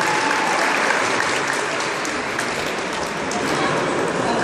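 Sustained loud applause from the crowd at the opening ceremony of a national women's and men's volleyball tournament, dense and even throughout with some voices mixed in.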